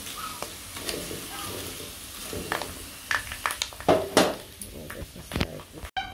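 Potato chips fry in hot oil with a light crackling sizzle, punctuated by scattered stirring clinks and taps, while brief talk is heard.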